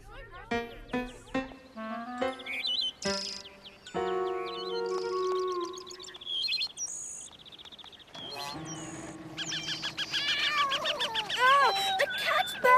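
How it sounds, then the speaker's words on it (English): A cartoon cat meows and yowls amid a busy animated soundtrack of chimes, tones and sound effects, its cries rising toward the end over layered music. "The cat's back!"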